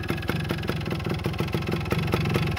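A 1975 Yamaha DT400 motorcycle idles steadily nearby, its engine giving a quick, even, rhythmic putter with a slight uneven lope, heard alone without talk.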